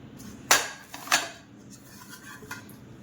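A tray of ragi chikki lined with butter paper is flipped over, giving two sharp metallic clanks of the tray in quick succession, followed by a softer tap.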